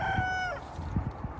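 A rooster crows once outdoors near the coop, a short drawn-out call that fades after half a second, followed by soft low clucks and shuffling.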